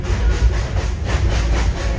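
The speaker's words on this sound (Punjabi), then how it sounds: "ਟ੍ਰੇਨ ਚੱਲ ਪਈ ਸਾਡੀ" The Darjeeling heritage toy train, pulled by a steam engine, runs along its track with a steady, close, low rumble and rolling noise throughout.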